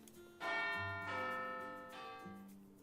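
A school bell in the Panzermadels visual novel video game rings with three clear, resonant chimes in quick succession, each tone lingering and overlapping the next.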